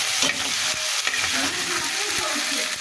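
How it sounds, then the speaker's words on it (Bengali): Chillies sizzle steadily in hot oil while vegetables are cooked Chinese-style with prawns, a continuous bright hiss broken by a few soft stirring scrapes and clinks, close and fairly loud with no talking. "আমি এবার আমার মরিচগুলো দিয়ে দিলাম তেলের উপর।"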